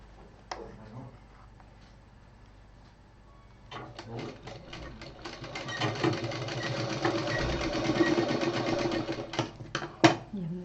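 A sewing machine stitches a fabric pouch corner, starting with a few faint clicks before running in a steady, moderately loud whirring stretch and ending with a couple of sharp taps.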